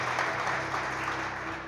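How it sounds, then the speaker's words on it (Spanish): A church congregation applauding together, a dense steady wash of clapping filling the short stretch at full level, with no voice over it. "Dale un fuerte aplauso a Dios"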